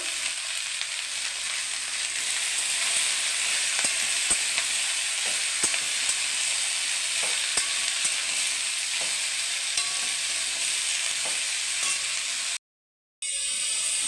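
Cumin and chili powder sizzle steadily in hot oil for a lau chingri (bottle gourd with prawns) dish, a dense bright frying hiss with faint stirring ticks, broken by a brief near-silent gap toward the end.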